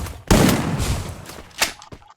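Gunfire in a video game shootout during a competitive match: a loud burst of shots, then a pause and a second sharp shot, with a few fainter pops trailing off.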